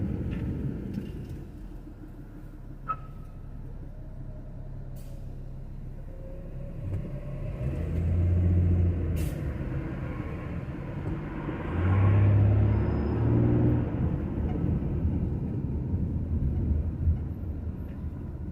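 Steady road traffic along Pico in the Beverlywood neighborhood of Los Angeles, heard from inside a cruising car: a continuous low rumble with two heavier swells of engine and tire noise as vehicles pass close by.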